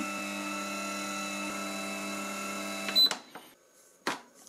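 A Philips pasta maker runs with a steady mechanical motor hum during extrusion for about three seconds, then cuts out, leaving a few sharp clicks and knocks nearby.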